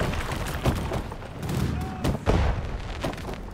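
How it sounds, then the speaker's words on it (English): Mortar rounds and distant gunfire boom through a World War II video game battle at Hatvan, with dull thumps and crackling shots layered into continuous combat noise. "They brought mortars to specifically counter you."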